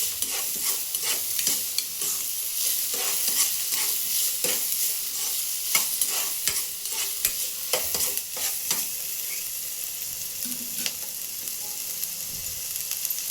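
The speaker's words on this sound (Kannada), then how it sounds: "ಈ ಸ್ವಲ್ಪ ಇವು ಎಣ್ಣೆಗೆ ಉಳ್ಳಾಗಡ್ಡಿ ರೀ ಸ್ವಲ್ಪ ಎಣ್ಣೆಗೆ ಫ್ರೈ ಆಗ್ಯಾವು." Sliced onions frying in oil in a village-style kitchen: a constant sizzle with frequent scraping, clicking stirs of a spatula against the pan, close and even, with no speech.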